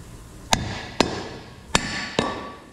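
A grease seal tapped into place with a bearing race and seal installer on a 1967 Shelby GT500 Mustang, giving four sharp, close metallic knocks at uneven intervals with short ringing decays.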